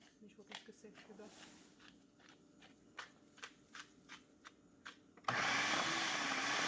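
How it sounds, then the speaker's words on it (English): A food processor starts up abruptly and whirs loudly and steadily while pureeing leftover flounder with chive and whipped cream. Before it starts, a person talks over soft kitchen clatter. "Put the leftover flounder in a food processor"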